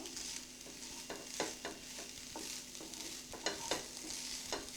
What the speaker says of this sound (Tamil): இந்த தேங்காய் துருவலை கடாயில் போட்டு லைட்டாக வருங்க